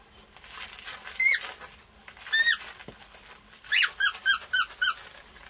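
The squeaker in the head of a BarkBox dog toy gives several sharp, close squeaks in short bursts: one, then another, then a quick cluster of four or five toward the end, with quiet gaps between.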